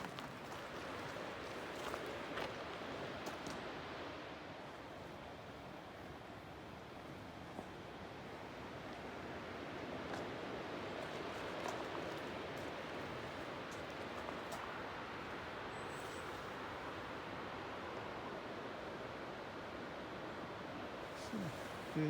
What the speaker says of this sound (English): So there it is, the waterfall.